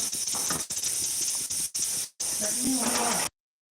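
A pressure cooker whistle: a loud, continuous hissing of steam venting under pressure, broken by a few short gaps, then cutting off abruptly.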